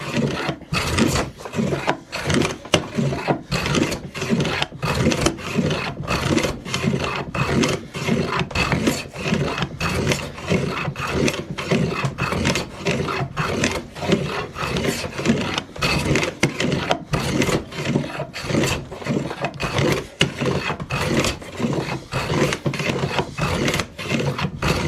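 A rough sawn wood edge is smoothed by hand with quick, repeated rasping strokes, a dense, steady scratchy rubbing that continues at close range throughout.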